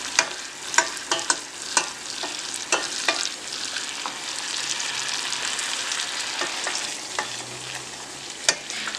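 Garlic browning and burning in butter in a frying pan, a loud close sizzle with scattered sharp crackles and pops, no one talking.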